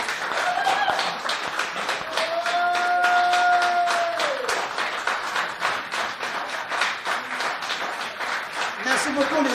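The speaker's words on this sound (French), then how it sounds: "Je vous demande d'applaudir bien fort." Dense, continuous applause from a concert audience at a blues festival, steady rapid clapping throughout with a brief sustained tone and a voice briefly audible in the middle.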